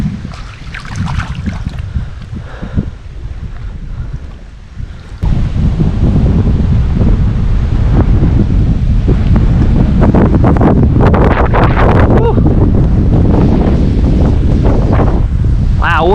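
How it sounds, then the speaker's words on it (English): Strong gusty wind at a New Jersey pond buffets the microphone with loud, continuous low roaring that swells and stays heavy, with faint rustling beneath. "this wind is making it really difficult to fish a weightless worm"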